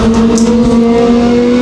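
Legends race cars roar around the dirt oval at Evans Mills Raceway Park, a loud, steady engine drone with strong sustained tones and no speech over it.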